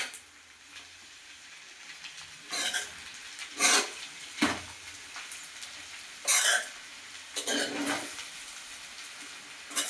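A spoon stirs and mixes vegetable fried rice in a pan, scraping and clinking against the metal in uneven bursts, close by, with a faint sizzle in between.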